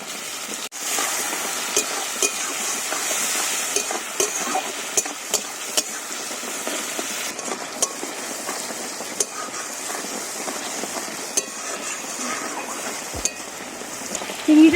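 Prawns fry with garlic in a pan, giving a steady bright sizzle with scattered clinks of a utensil stirring against the metal, close and continuous throughout with no talking.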